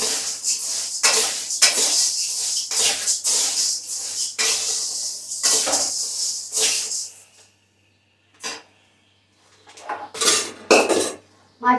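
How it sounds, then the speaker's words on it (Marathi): Dry roasting grains lightly in a pan at home to make thalipeeth bhajani flour, with repeated close clatter of utensil against the pan in bursts, a few quiet pauses, then more scraping and clinking near the end. "त्यामुळे मी असं भाजून घेणार आहे पण जास्त काही भाजणार नाही अगदी हलकं हलकं भाजून घेणार आहे"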